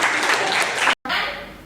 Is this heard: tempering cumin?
no